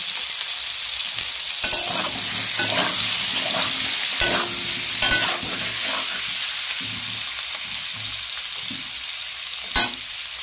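Green peas frying in oil in a wok for koraishutir kochuri, a loud steady sizzle with clustered spatula scrapes and stirs through the first half, then calmer frying and one sharp knock near the end.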